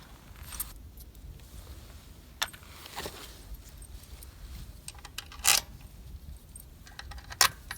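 New hardware-store bolts clink and jangle as they are handled and fitted onto a cover of a 1981 Kawasaki KLT200 three-wheeler, with sharp metallic clicks scattered across a quiet background.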